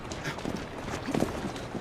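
Steady clip-clop of horse hooves at a trot in Assassin's Creed Syndicate, moderately close, with a few louder strikes near the middle over a busy background.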